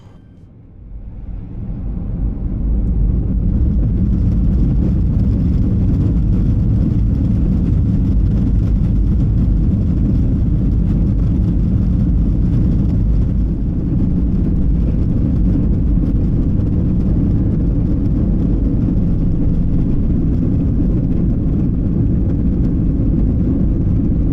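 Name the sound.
Boeing 737-800 takeoff roll on runway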